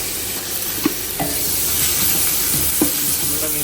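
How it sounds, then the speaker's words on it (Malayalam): Softened onion and ginger paste frying in a pan for an Arabic-style goat curry, an even close sizzle with a few sharp spatula taps and stirs, no voices. "ഉള്ളി ഈ വാടി വന്നതിന് ശേഷം നമ്മൾ ഇഞ്ചി പേസ്റ്റ് ഇടുക"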